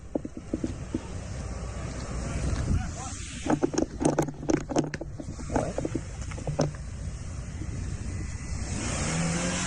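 A car drives past construction workers, its engine revving and rumbling amid clattering, creaking mechanical knocks in the middle, with a voice talking over parts of it.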